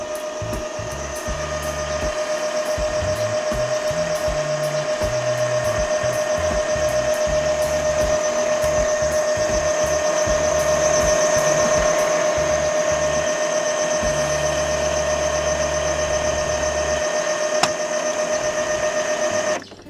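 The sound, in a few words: inkjet printer pumping ink during setup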